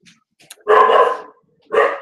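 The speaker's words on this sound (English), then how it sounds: "Now the dog's gonna go crazy." Indoors a dog lets out two loud, close barks about a second apart, with faint small sounds before them and no talking.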